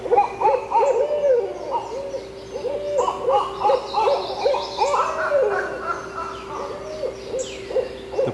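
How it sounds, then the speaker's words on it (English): Owls hooting the so-called monkey call along the Roanoke River, a steady run of repeated, rising and falling hoots, fairly close and loud, overlapping one another for several seconds with no talk. "Well, the first thing you're going to hear is the owls."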